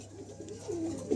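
Pigeons coo softly in a loft where they sit on eggs, a low, brief murmuring coo against quiet background hum.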